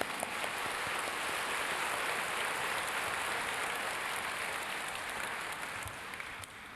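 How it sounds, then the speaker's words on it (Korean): Sustained, dense applause from a crowd, steady and loud throughout before easing slightly at the very end. "우리 박수 좀 보내드릴까요?"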